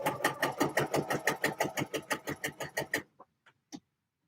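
A home sewing machine stitching in a quick, steady run of needle strokes for about three seconds, then stopping, followed by a few faint isolated clicks.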